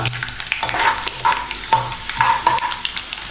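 Dried red chillies hit hot oil while tempering a masala mandakki (puffed rice) snack, giving a steady sizzle and frying crackle with several sharper pops and stirring scrapes throughout, close and without any talk.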